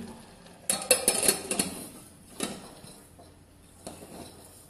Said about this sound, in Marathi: आता ह्याला कुकरला झाकण लावते मी